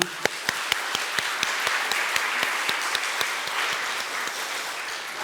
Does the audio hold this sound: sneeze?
no